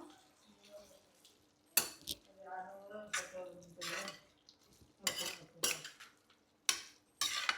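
Curd okra curry being mixed with chopped coriander and garam masala in a pan, with a series of sharp spoon scrapes and clinks against the metal and a soft background hiss.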